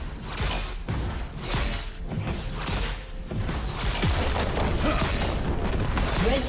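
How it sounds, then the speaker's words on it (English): Turret destroyed in League of Legends, with dense booming crashes and shattering bursts rolling continuously throughout, loud and busy with layered game effects. "Team's turret has been destroyed"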